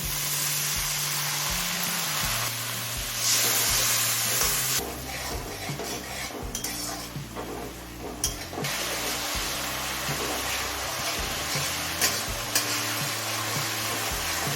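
Spices with Kashmiri chilli powder, cumin powder, salt and a splash of water sauté on a high flame, a steady sizzle and hiss under repeated scraping stirs of a spoon against the pan, with occasional louder clanks.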